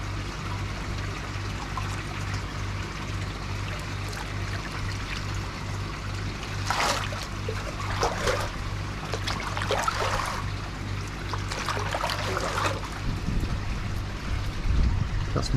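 Liquid treatment poured into a koi pond: soft splashing and trickling bursts rise over a steady background hum and running water, with several distinct pours around the middle of the stretch.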